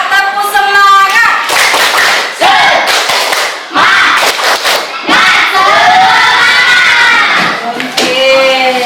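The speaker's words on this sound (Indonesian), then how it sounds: "Coba tepuk semangat." Classroom children performing a rhythmic spirit clap, loud patterned hand claps and shouted chanting voices together in a lively group burst, with a brief pause before the rhythm resumes.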